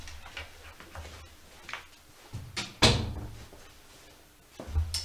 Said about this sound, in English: let me go close the door to the studio here real quick